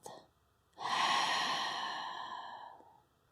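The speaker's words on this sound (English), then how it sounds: "And then breathe out through your mouth." One long exhale through the mouth during a standing forward fold in a yoga stretch session, close and soft, following a brief faint breath.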